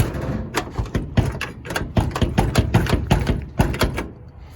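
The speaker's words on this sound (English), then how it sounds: "But anyhow, the door opens now," A stiff, rusty driver's door on a 1964 Chevrolet C20 truck is worked open, giving a rapid series of close metallic thunks, clunks and rattles over about four seconds, with no talking.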